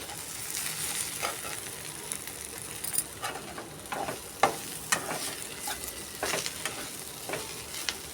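Fried okra being stirred with spices in a pan, soft continuous sizzle broken by light, irregular scraping and tapping of the utensil, fairly quiet and close with no talking.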